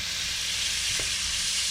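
Stir fry sizzling in an electric wok: a steady, close hiss of frying with a faint scrape of stirring midway.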